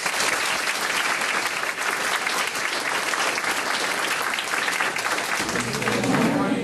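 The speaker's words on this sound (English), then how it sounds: "We could give them a round of applause." Audience in a school hall applauding honorees at a Locks of Love hair-donation event, loud continuous clapping throughout with crowd noise mixed in.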